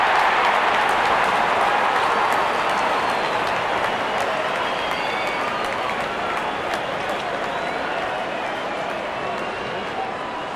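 A large crowd at an India versus South Africa T20 cricket match cheers and applauds as the opening batsmen walk out, a dense, steady roar of clapping and voices that fills the whole stretch at close, loud level without pause.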